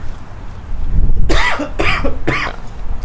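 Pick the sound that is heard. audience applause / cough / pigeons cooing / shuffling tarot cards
cough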